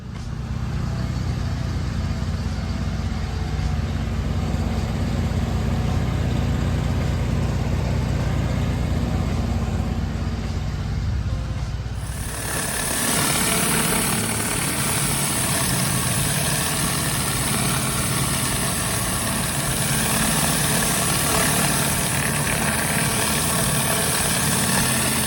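A pressure washer engine runs steadily at a home, a loud, constant idling drone heard close by for the whole stretch, its tone shifting partway through as the load changes, with no talking.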